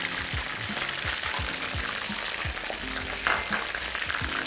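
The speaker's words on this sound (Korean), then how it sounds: "카라게가 거의 다 튀겨질 때쯤에, 음, 여기 이제 대파, 대파를 마지막에 넣어주세요." Chicken karaage bubbles in deep oil as chopped green onion goes in near the end, a continuous close sizzle with scattered popping and stirring, no talking.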